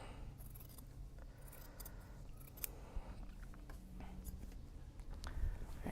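Scissors snip through fabric seam allowances on a sewn knot bag, a series of quiet, close crisp cuts and rustles spread unevenly across the moment.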